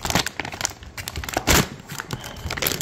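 Scissors cut open a 5 gallon mylar bag, giving close, loud crinkling and crackling bursts with irregular sharp snips across the whole stretch and no talking.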